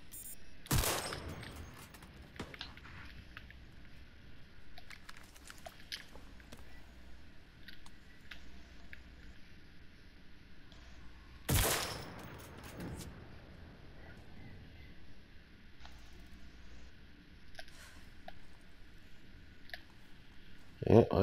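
Gunfire in the online shooter CRSED: two sharp, loud shots stand well apart, with faint clicks and quieter distant activity between them, and a player talks at low level throughout.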